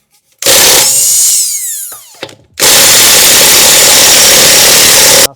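A power tool whines loudly and up close in two long bursts as it spins the passenger-side rear wheel lug nuts off a 2021 Acura TLX 2.0L, using a 22 mm socket. A short, quieter gap with clanks separates the bursts.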